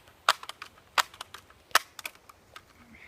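A pellet pistol is fired outdoors at a roadrunner in a tree, giving several sharp, dry snaps with three standout cracks among fainter clicks, fairly close, with no talking.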